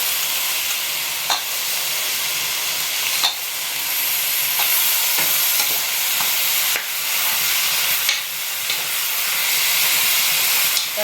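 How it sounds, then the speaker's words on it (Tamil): Dried seer fish frying in hot oil with chilli spice for a Tamil karuvattu kuzhambu, a steady loud sizzle with spoon-stirring scrapes and clinks breaking through every few seconds, no voices. "இந்த வஞ்சிர கருவோடையும் ஆட் பண்ணணும் இந்த எண்ணெயிலேயே காரத்துலேயும் வதங்கிச்சுன்னா"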